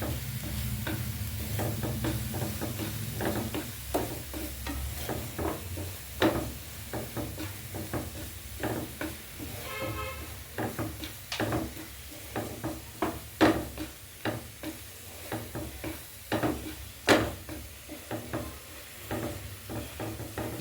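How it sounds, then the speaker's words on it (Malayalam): Onion and paste sauté in a hot pan, a quiet sizzle under repeated scraping and tapping strokes of a spoon stirring the mixture at close range. "സവാളയിട്ട് നന്നായി മിക്സ് ചെയ്ത് ഒന്ന് എല്ലാ ജലാംശമൊക്കെ ഒന്ന് മൂത്ത് കിട്ടാൻ വേണ്ടിയിട്ടൊന്ന് നമുക്ക് ആ ചൂടിലൊന്ന് വഴറ്റി കൊടുക്കാം."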